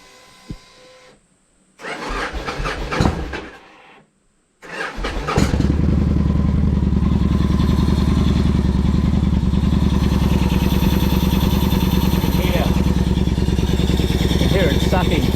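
A 2006 Victory Vegas motorcycle with an air leak at the throttle body cranks over in short bursts, then catches and settles into a loud, steady idle that runs continuously to the end.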